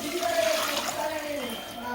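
Water pours into a cooking pot for tomato rice, a continuous gurgling stream whose pitch slowly shifts as the pot fills.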